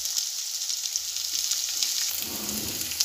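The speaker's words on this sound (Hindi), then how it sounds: "सरसों का तेल लिया मैंने इसमें, आप चाहें कोई भी लें। तो उस सबसे पहले मैं डाल रही हूँ प्याज, लहसुन और अदरक" Onion, garlic and ginger frying in mustard oil in a pan for a vegetable kofta gravy, a loud steady crackling sizzle close up, with a low stirring rumble near the end and no talk.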